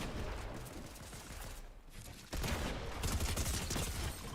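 Rapid gunfire from a Fortnite match, dense crackling volleys running without a break and growing louder and heavier partway through.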